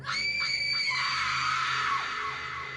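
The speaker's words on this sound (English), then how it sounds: "And then I heard a scream." A long, loud, blood-curdling scream rises and wavers for a couple of seconds before fading, set in a horror story about a night shift at a hotel.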